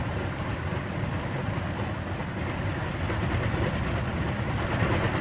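F4U Corsair aircraft engine idling after start, a steady broadband rumbling drone held at an even level with no talk over it.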